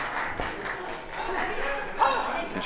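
A crowd at a wrestling show cheers and claps steadily as a continuous roar, with a commentator's voice over it.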